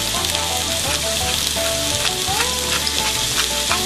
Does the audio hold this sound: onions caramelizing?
yes